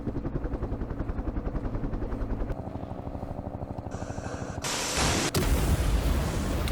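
Gunship helicopters in the Vietnam war strategy game Campaign Series Vietnam, a steady rotor thump joined by rising bursts of gunfire and explosions that grow louder toward the end.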